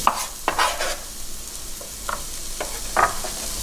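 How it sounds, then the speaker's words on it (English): Garlic sizzling in melted butter in a pan for steamed mussels, a steady close frying hiss with occasional scrapes from stirring. "Now we're going to add in our garlic while the butter is cooking."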